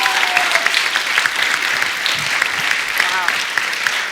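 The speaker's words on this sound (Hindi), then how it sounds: "तो इस बात के लिए तालियां बनती है।" A studio audience at a comedy talk show breaks into loud, steady applause that holds at full strength for the whole stretch, with crowd noise mixed in.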